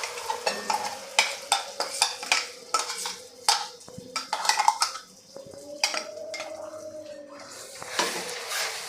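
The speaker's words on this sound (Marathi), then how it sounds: "छान असा आपल्याला मसाला परतून घ्यायचा आहे हे वाटण आहे हे छान असं परतून घ्यायचं आहे" Ground masala paste for chicken is sautéed in oil in a pan, with a spoon scraping and clattering against the metal in busy, uneven strokes over a faint background sizzle.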